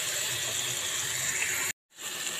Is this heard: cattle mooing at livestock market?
no